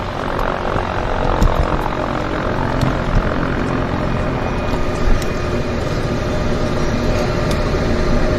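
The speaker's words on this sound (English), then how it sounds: "as that aircraft is taxiing out" Floatplane taxiing out at a harbour airport, a steady broadband propeller-engine drone that holds at an even, fairly loud level throughout, with no talk.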